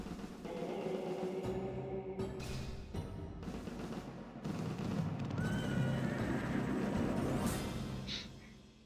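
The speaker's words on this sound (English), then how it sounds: "Blinky the horse." A horse whinnies in the video game Discworld 2, a long wavering neigh over steady game ambience at moderate, fairly faint level.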